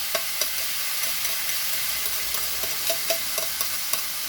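Bottle gourd being sautéed with sautéed aromatics in a hot pan: a steady, moderate sizzle with light scraping and clinks of a spoon stirring, close by and without voices.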